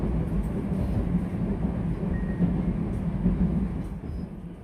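A Moscow metro train runs above ground between stations, its steady low rumble and rolling wheel noise filling the space from close by with faint high squeals, no talk.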